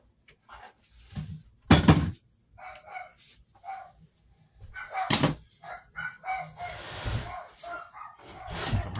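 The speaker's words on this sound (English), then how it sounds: "Probably hear my dogs out in the other room going crazy." Several dogs bark excitedly from another room of a house, coming in short loud bursts with a sharp spike near the start and another midway, muffled by distance and mixed with faint household noise.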